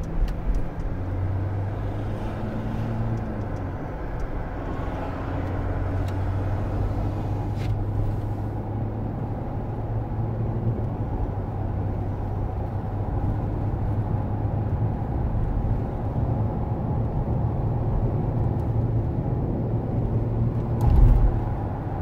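Kia Mohave SUV with an upgraded turbo entering an expressway, a steady low engine drone and road rumble heard from inside the cabin, continuous with a brief louder thump near the end.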